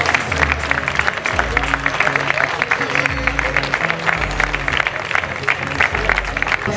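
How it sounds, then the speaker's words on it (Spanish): Applause for a rally driver at the Rías Baixas rally awards ceremony, steady dense clapping from a crowd, with music playing underneath. "¡Fuerte aplauso para él!"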